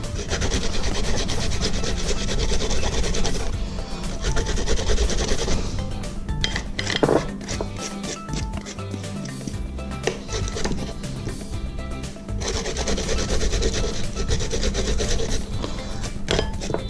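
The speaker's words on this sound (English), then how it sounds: "I'm gonna go ahead and grate down some ginger" Fresh ginger is grated by hand, a steady close rasping rub that runs in continuous bursts, pausing briefly mid-way before resuming.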